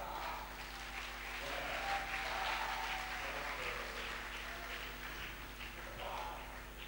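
Congregation applauding inside a church, a steady wash of clapping that holds for the full stretch and swells a little midway, with faint voices beneath.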